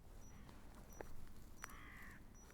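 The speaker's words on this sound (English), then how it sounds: "Crows have noticed him." Somewhere in the distance a crow gives a single faint, drawn-out caw against quiet background noise, preceded by a couple of soft clicks.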